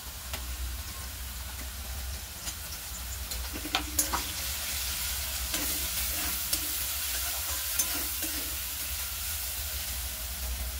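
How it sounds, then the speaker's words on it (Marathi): Chopped green chilies and softened potatoes sautéing in a pan for sabudana khichdi, a constant soft sizzle with a few clinks of stirring, near and steady without talk. "दोन मिनिटं परतून घेऊ मिरचीला."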